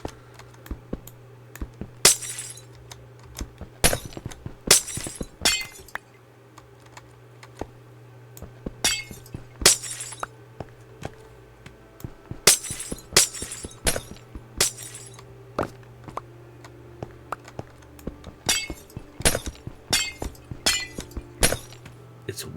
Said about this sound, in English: I love the sound of breaking glass, do you?